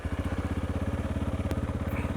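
An adventure motorcycle idles steadily after sitting unused for three months, its engine loping in a fast, even thump that stays close and loud throughout.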